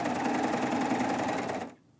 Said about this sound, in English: And finish serging all along that edge.